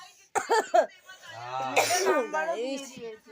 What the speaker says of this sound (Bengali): এত কাশি হচ্ছে